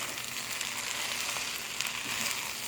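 Julienned green onion tops sautéing in a pan for chicken chow mein, a steady broadband sizzle with a few faint clicks, fairly close and even throughout.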